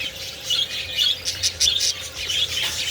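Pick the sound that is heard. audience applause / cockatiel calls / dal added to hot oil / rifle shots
cockatiel calls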